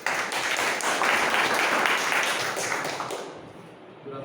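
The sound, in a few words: applause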